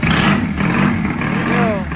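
Triumph T100 motorcycle engine with wide open pipes kick-started in a workshop, catching quickly into a loud, rough, steady rumble close by, with voices talking over it.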